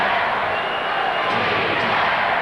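Arena crowd at a Detroit Pistons at Chicago Bulls NBA game in 1993, a steady loud roar of fans hollering for defense, dense and continuous throughout with no individual voices standing out.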